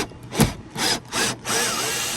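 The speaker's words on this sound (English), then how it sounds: "we're going to start by unscrewing our old hook over here" An old screw-mounted hook is turned out of a wall in four short rasping, grinding strokes, each close and moderately loud, with brief pauses between them.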